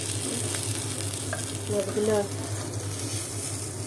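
Pabda fish sizzling in hot oil, a constant close crackle with some stirring noise and a brief faint voice partway through.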